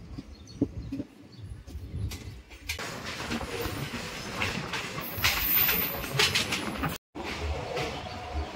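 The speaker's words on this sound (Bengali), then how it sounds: "এই যে আমাদের ট্রেন, বর্ধমান থেকে আমরা এই ট্রেনে করে আসলাম তেভাগা এক্সপ্রেস" Tebhaga Express train arriving at Kolkata station after the run from Bardhaman, giving a steady broadband rumble and rattle of rolling carriages that stays loud throughout, with a brief dropout near the end and no talking.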